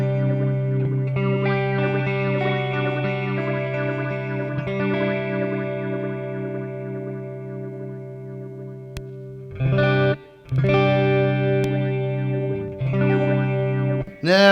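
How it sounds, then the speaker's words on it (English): Guitar chords ring out through a Behringer Bi-Phase stereo phaser, split across a Marshall Astoria and a second amp, with a slow sweeping swirl on long sustained strums, a short gap, then fresh strummed chords. "I'll pan one left and one right so you can hear the stereo effect."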